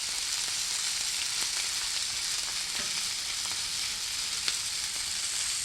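Steaks sizzle steadily on a Blackstone 36-inch griddle, a dense continuous hiss of frying fat with faint pops and crackles throughout, close up and without any voices.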